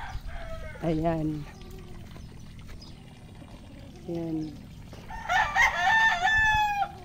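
Outdoors among chickens, a rooster crows twice in clear, drawn-out calls, then another rooster crows more shrilly nearby, with a person speaking briefly between the calls.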